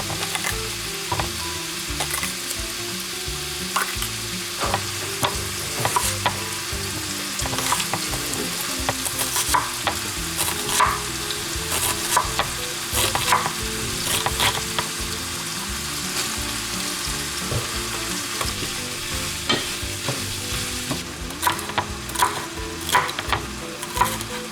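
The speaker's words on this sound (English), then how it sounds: "we'll put it right over in the pan with the ground beef and sausage" Chopped green bell pepper and onion sizzle steadily in a pan with browned ground beef and Italian sausage, a dense continuous frying hiss with scattered crackles and occasional utensil scrapes, close and fairly loud with no talking.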